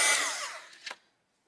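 A hair dryer used to dry a watercolor Valentine's Day card gives a steady, close, airy whoosh that fades away over about half a second, followed by a few soft taps.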